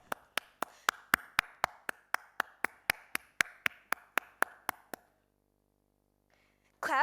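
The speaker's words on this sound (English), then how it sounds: "Clap your hands." Hands clap about twenty times in a steady, even rhythm, each sharp clap close and clear against silence, in a stage performance of The Little Prince; a voice begins speaking right at the end.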